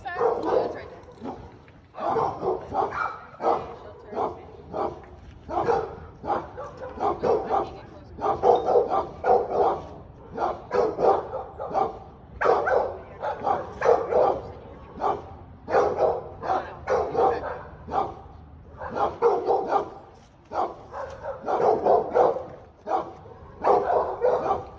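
Dogs bark repeatedly in steady bursts at a private home with a doghouse, close and loud throughout, while people talk over them.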